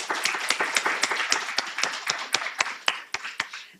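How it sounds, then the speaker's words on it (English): Scattered, individually distinct claps from a modest audience after student presentations at a humanities expo, an uneven rhythm of sharp hand claps at close range with no talking. "Let's give them another round of applause."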